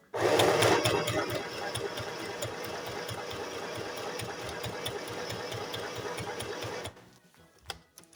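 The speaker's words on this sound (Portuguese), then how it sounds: "Vou dobrar aqui, passar uma costura." A domestic sewing machine stitches a seam at a steady, fast mechanical rhythm, running loud and continuous for about seven seconds before stopping abruptly, followed by a few faint clicks.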